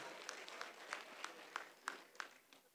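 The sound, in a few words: audience applause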